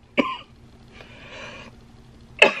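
A person coughs sharply twice, short harsh bursts separated by a faint breathy pause, close and clear with no talking.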